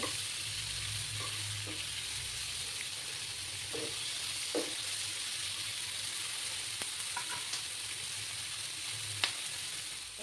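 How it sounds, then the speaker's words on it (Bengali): Egg and onion sizzle in a frying pan for a dish of egg do-peyaja, a steady close hiss of oil with a few soft clicks and scrapes of a utensil scattered through. "বন্ধুরা আমার ফ্রাই করা হয়ে যাচ্ছে।"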